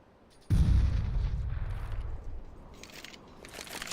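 A heavy boom from Counter-Strike play bursts out suddenly, a deep loud blast decaying over about two seconds, followed by faint crackling and distant gunfire noise.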